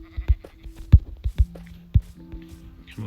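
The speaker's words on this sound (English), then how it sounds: "Found the sheep." Sheep bleats from the video game Minecraft, several short bursts in an uneven rhythm, close and moderately loud, with no speech over them.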